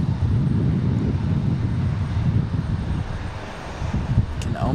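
A Pilatus PC-12 turboprop with unusual livery gives a steady, loud, broadband engine roar throughout, near and continuous, with no speech.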